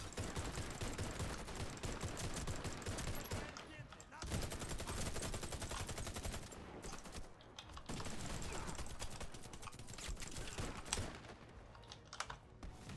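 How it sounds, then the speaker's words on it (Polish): Dense rapid gunfire and RPG shots in the video game Warface crackle almost continuously, with bursts and heavy booms blending into a chaotic, loud barrage and brief lulls between volleys. "Tutaj lecą strzały z RPG'a, więc trzeba uważać."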